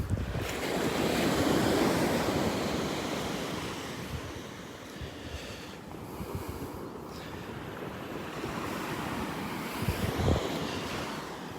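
Ocean surf rolls onto a sandy beach in North Naples, Florida, a steady broad wash of breaking waves with wind buffeting the microphone, swelling and easing with no voices.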